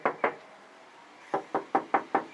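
Door of a Toyota TownAce van with bare sheet-metal wheel wells, shut in a series of sharp metallic thunks: two quick slams, a pause, then five evenly spaced closes, close and clear.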